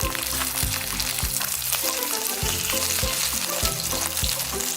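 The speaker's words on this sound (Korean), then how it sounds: "닭다리살을 튀기듯 구워주면 끝입니다" Starch-coated chicken thigh pan-fries in hot oil with a loud, continuous crackling sizzle, punctuated by occasional low thumps.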